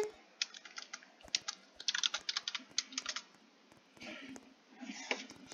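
Fingers type fast on a computer keyboard during a Toilet Tower Defense game session, with bursts of close, crisp key clicks, uneven rhythm and short pauses between flurries.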